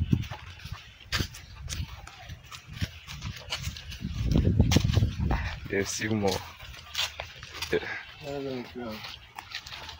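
A donkey at a zoo brays in two short rasping bursts, heard under and between people talking nearby, with some shuffling and handling noise.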